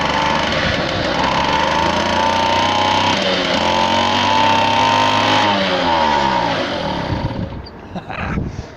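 A belt-drive Garelli moped engine with leaky exhaust runs loud and close, buzzing steadily and then revving up and down in rising and falling sweeps before dropping off toward the end.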